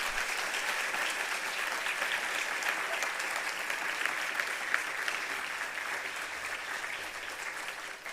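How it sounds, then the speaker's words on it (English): A small outdoor crowd at the unveiling of a yellow friendship bench applauds, steady close clapping that runs evenly for around eight seconds and gradually thins toward the close. "a big round of applause for the yellow bench."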